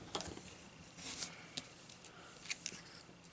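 Scissors snip through a scalloped contour card piece for a handmade Christmas card, a faint close series of sparse crisp cuts and paper rustles in a quiet room.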